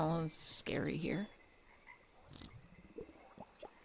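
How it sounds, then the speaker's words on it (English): Frogs croaking in the video game Chicory, a few bursts of croaks and chirps early on, followed by quieter scattered ticks and chirrups against a soft background. "They only got the sound of frogs."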